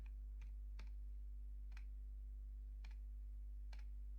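Computer keyboard typing as a freight charge is entered into billing software, a handful of sparse, separate key clicks spaced irregularly over a constant low electrical hum.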